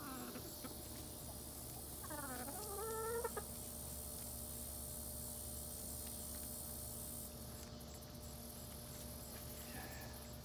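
Backyard chickens clucking, with a short rising run of calls early on and another brief cluck near the end over a steady loud hiss of insects and outdoor noise.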